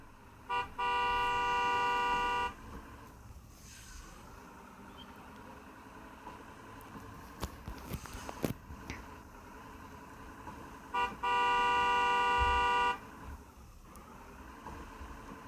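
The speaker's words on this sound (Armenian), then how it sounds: "Դե ինչ եք սիգնալ տալի։" Car horns in a car simulator video game blare in two long, loud sustained blasts about ten seconds apart, with quieter engine and game noise in between.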